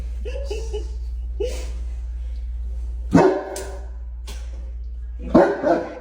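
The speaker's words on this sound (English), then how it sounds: "He barked back at you." A dog barks indoors among household dogs, two loud sharp barks spaced a couple of seconds apart, with softer vocal sounds and light laughter-like noises in between over a steady low hum.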